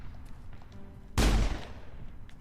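Gunfire in the video game Mass Effect: one sharp, loud blast cracks out against a quiet background and rings off in a short decaying tail.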